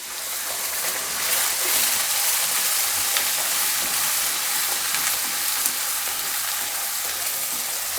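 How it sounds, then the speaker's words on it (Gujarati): Red chili powder with cumin-coriander sizzling and frying in hot oil, a steady close hiss and crackle of spices and gravy cooking in a pan, continuous and fairly loud with no voices. "ધાણા જીરું નાખી અને આપણે એમાં લાલ મરચું નાખશું તેલમાં"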